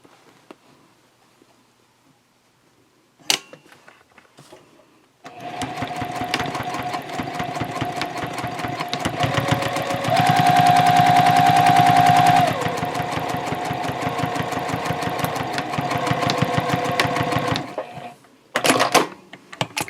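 Sewing machine stitching a chalk line on a tote bag: a sharp click, then a rapid, steady mechanical hum of stitching that speeds up briefly in the middle and stops, followed by a few handling clatters.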